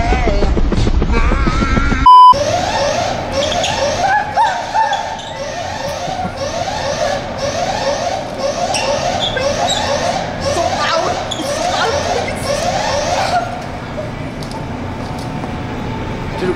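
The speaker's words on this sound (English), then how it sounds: "The alarm was going off, dude." An arcade machine alarm blares with a repeating electronic tone pattern for most of the stretch, loud and up close, over a busy arcade background with voices mixed in.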